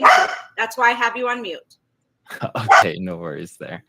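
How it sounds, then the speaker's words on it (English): Dogs bark in the background of an online governance council meeting, the barks mixed in with a man's speech and heard under the talk rather than alone. "forgive if you hear my dogs barking"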